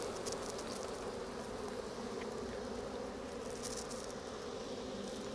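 Honey bees buzz around an open hive during an inspection and honey harvest, a steady dense drone close by with no talk.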